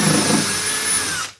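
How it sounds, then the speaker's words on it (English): A drill driver fitted with an 8mm masonry bit bores into a wall at fast speed, a steady close whine for over a second before cutting off abruptly. "I'm using a drill driver with an 8mm masonry bit"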